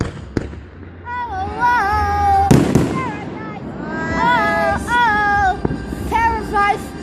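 Fireworks burst in a show, with sharp pops and booms scattered through a noisy crowd while people whoop, talk and cheer loudly over the explosions.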